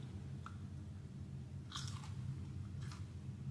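Someone bites into a crunchy snack and chews it: a few faint, crisp crunches spaced over a low background hum.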